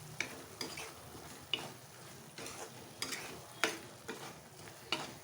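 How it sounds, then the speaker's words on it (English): Macaroni with oregano stirred in a pan, a spoon scraping in repeated strokes of about one a second over a steady low sizzle, close and moderately quiet, with no talking. "Stir this very well."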